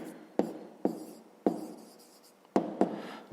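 A pen or pencil writes out a math answer by hand, sounding as a series of short scratchy strokes with sharp taps at each new mark, close and quiet with no talking.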